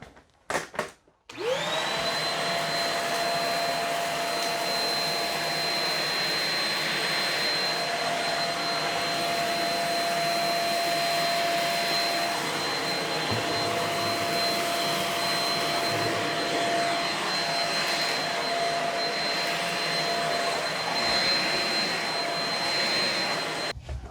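A Shark Rocket HV301 vacuum cleaning a hard floor on its bare-floor setting, switching on with a brief sputter and then a loud, steady motor whine with a high pitched tone, close and continuous.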